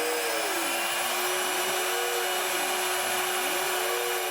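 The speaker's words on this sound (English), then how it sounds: "if I run a program that I already made, you can hear the spindle starting." A CNC machine spindle spins up and whines with a steady high pitch that repeatedly rises and falls, over loud constant broadband machine noise, close by with no talking.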